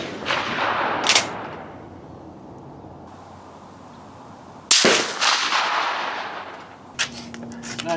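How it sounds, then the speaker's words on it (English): Rifle shots at an outdoor shooting range, a few sharp loud reports spaced seconds apart, each followed by a decaying echo over steady background wind noise. "I'm gonna shoot off these 3 stragglers I got."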